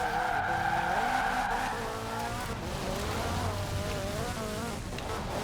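In Forza Horizon 4, car tires squeal continuously through a drift while the engine whines steadily underneath, a loud, unbroken stretch of game audio with no voices.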